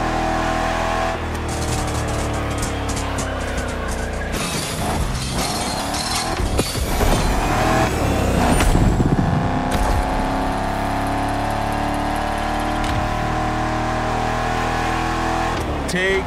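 A Shelby GT500 laps in The Crew Motorfest, its engine droning steadily and loudly throughout, with a surge of revving and rough crashing noise midway before the steady engine tone returns.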